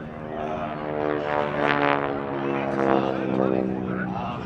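A North American T-6 Harvard trainer with a 1340 radial engine runs at an air festival, giving a steady, rasping, propeller-driven drone that swells and fades slightly throughout, heard from a moderate distance.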